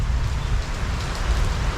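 Heavy rain pours steadily in Masantol during several days of flooding, a dense, continuous hiss of drops drumming on surfaces, close and loud with no voices.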